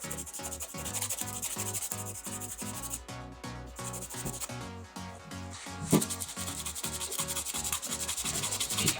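Acrylic nails are filed by hand in steady rhythmic strokes, a dry scratchy rasp repeating back and forth at close range with brief pauses, no talking.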